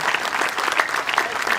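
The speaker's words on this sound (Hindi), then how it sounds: "जोरदार तालियां, जोरदार जोरदार।" Audience at an outdoor cultural festival program claps steadily and fairly loudly in a brief continuous burst of applause.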